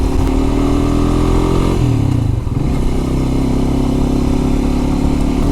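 A Loncin Voge LX300GY motorcycle rides through city streets, its engine droning loud and close with a shift in pitch midway as it changes speed, and no talk over it.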